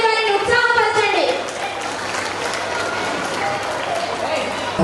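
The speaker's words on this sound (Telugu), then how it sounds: "గట్టిగా చప్పట్లు కొట్టండి, వారిని ఉత్సాహపరచండి." An audience claps loudly and continuously for a school dance performance by ninth and tenth graders, steady dense applause filling the hall, with a voice over a speaker at the start.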